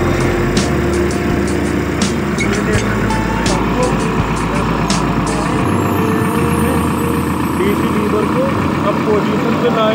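Tractor engine running under load with the draft lever set while the tractor starts to slip, a loud continuous rumble with some clanking and rattling, and someone talking over it.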